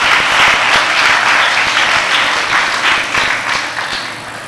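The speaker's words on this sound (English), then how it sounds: "So I want you to all give yourselves a round of applause." A large audience at a youth network gathering claps loudly and steadily, a dense wash of applause that fills the whole stretch and tapers slightly toward the end, with no voices over it.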